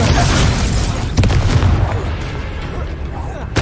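Spell explosion from an Expulso cast in the video game Hogwarts Legacy, a loud booming blast with deep rumble and sharp bursts running continuously through the short stretch, dense and close throughout.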